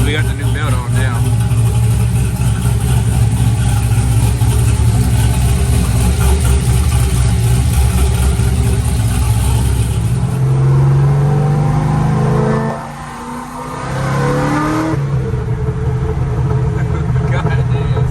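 A nitrous Corvette Z06 with a freshly installed belt idles loudly with a deep, lumpy rumble, then dips and revs up again near the end.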